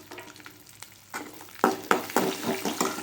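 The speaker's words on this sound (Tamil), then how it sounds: "உளுந்து வந்து ஒரு பொன்னிறமாக வர்ற மாதிரி வறுத்து எடுத்துக்குவோம்" Urad dal and garlic fry in a pan, with hissing sizzle and sharp bursts as the mix is stirred, several louder splutters in the second half, close and with no talk.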